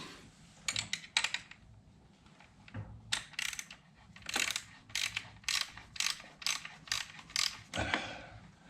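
Socket wrench ratcheting on a spark plug of a Jeep Wrangler 4XE, quiet bursts of rapid clicking repeated a dozen or so times with short pauses between strokes, close up and alone.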